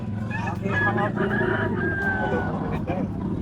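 Roosters crow loudly and repeatedly at a busy open-air pet market in Baliwag, Philippines, with clucking fowl nearby and people chatting underneath.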